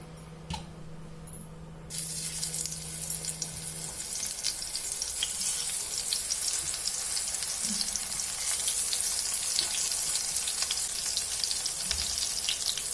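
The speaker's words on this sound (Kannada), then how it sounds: "ಈಗ ಬದನೆಕಾಯಿ ಫ್ರೈ ಮಾಡ್ಕೊಳ್ಳೋಣ. ತವಾಗೆ ಸ್ವಲ್ಪ ಎಣ್ಣೆ ಸೇರಿಸ್ಕೊಂಡು" Brinjal slices frying in oil on a tawa produce a steady, close, hissing sizzle that starts abruptly and holds loud and continuous, with a brief low hum early on.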